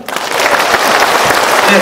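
Audience at a rally applauding with loud, dense clapping throughout, with a voice speaking over it.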